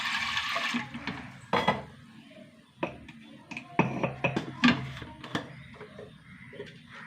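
A splash of water poured into a pot of washed lentils, a brief gush at the start, followed by scattered knocks and clinks of kitchenware.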